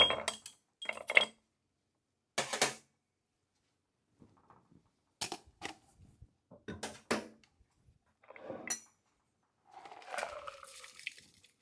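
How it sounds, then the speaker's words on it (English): A cocktail is double strained into a rocks glass over a fresh block of ice, giving a series of short, separate clinks and splashy pours broken by quiet gaps. "we will double strain this into a rocks glass over fresh ice"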